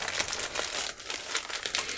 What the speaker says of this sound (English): this is a thick plastic bag over the mattress cover